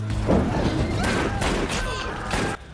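A rapid burst of gunfire with booming impacts in the 2020 film Unhinged, loud and continuous over a tense, noisy scene, ending abruptly.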